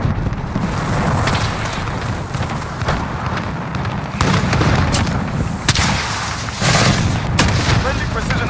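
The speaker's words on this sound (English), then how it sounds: "Friendly precision airstrike on the personal radar destroyed" Booming precision airstrike explosions roll in a video game, with a constant rumbling barrage and several sharper, heavier blasts scattered through. Radio-style voices talk underneath.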